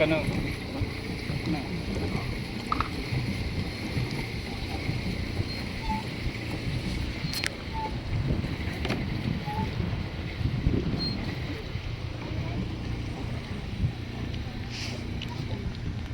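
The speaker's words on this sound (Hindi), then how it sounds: "अब जाएगी हमारी बोट उधर की तरफ और हम जाएंगे वापस।" A boat moves along the river at Lechlade, giving a steady low rumble and water wash mixed with wind buffeting the microphone throughout.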